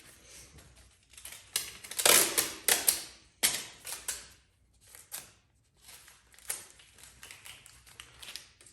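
Packing tape pulled off the roll and pressed down over folded foam padding around a battery tank for a Huck Cycles Stinger e-bike, a series of close, sharp ripping and crackling bursts with short pauses between.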